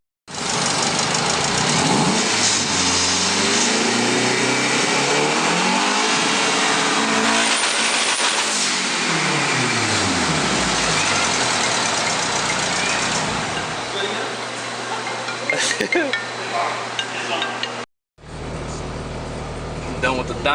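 A turbocharged K24 engine in an Acura RSX-S revs hard on a dyno, loud and sustained with rising and falling pitch sweeps, then drops to a lower drone and cuts off abruptly near the end.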